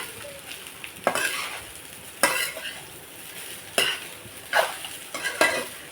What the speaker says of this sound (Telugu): మొత్తం వేస్తాను ఇప్పుడు మనం బాగా కలిపేసుకొని